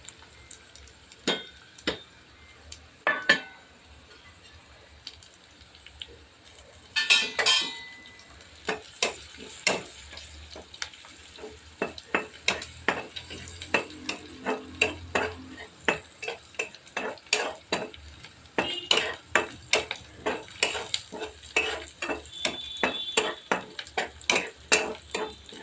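A spoon stirs spices into fried onions in a pan for paneer bhurji, giving close, rhythmic scraping and clinking strokes over a low, gentle sizzle on a low flame.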